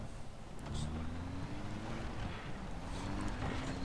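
A big rig truck drives in the Far Cry 3 video game: a steady, fairly loud heavy-engine drone whose pitch slowly climbs as it accelerates, with a rushing wind-like hiss over it and no talking.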